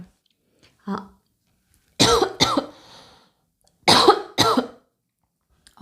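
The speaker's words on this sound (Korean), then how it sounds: "갑자기 기침이 나오네" Someone coughs close by: a short cough, then two quick double coughs in pairs, separated by silence.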